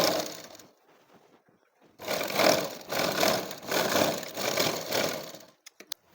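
A sewing machine stitches fabric. A quiet pause gives way to about three and a half seconds of close, rhythmic whirring in pulsing bursts, then a few sharp clicks as it stops.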